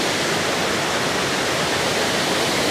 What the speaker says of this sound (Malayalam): ബ്ലാപ്പിലെ വെള്ളച്ചാട്ടം എന്തായാലും കിടലിനാണ്